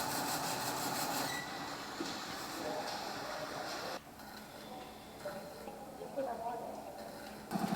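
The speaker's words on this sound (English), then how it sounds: "this loom running is just really cool to watch" A Toyota museum loom weaving tapestry clatters in a fast mechanical rhythm, steady ticking at first and then quieter after a few seconds, with people talking over it.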